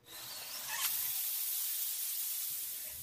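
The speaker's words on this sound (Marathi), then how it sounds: "या कुकरच्या फक्त तीन शिट्ट्या करून घ्यायच्या आहेत" A continuous hissing rush of steam escaping from a pressure cooker whistle, steady and fairly loud throughout with no talking.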